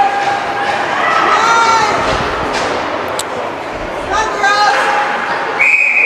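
Referee's whistle at a women's ice hockey game, short shrill blasts rising over steady arena crowd noise, with thuds of play and a commentator talking throughout.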